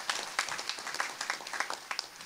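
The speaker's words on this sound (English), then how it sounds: "Let's have a round of applause for that." Audience applause in a meeting room during a skilled trades task force session, a brief round of scattered clapping that fills the short clip at moderate, fairly faint level.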